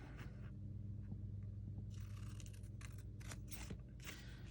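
Scissors snipping through paper for a handmade mini album, quiet crisp cuts in short bursts over a low steady room rumble.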